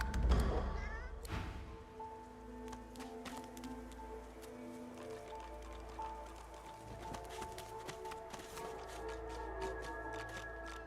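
A cat meows in the fantasy game Divinity Original Sin 2: a short cry near the start, then quiet ambient tones and light tapping patter, soft and fairly distant.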